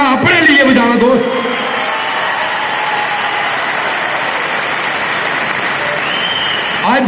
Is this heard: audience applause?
yes